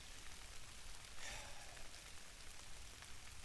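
Rain falls steadily on a bush camp with a lean-to shelter and hammock, a soft, even hiss of drops spread across the whole stretch, quiet and constant with no one speaking.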